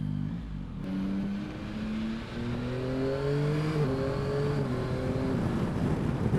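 A 2021 Yamaha Tracer 9 GT three-cylinder motorcycle accelerates, its engine note climbing and dropping in quick steps as quickshifted gear changes come one after another, with steady wind rush underneath.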